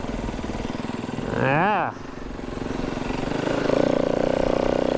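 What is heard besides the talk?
snow bike engine running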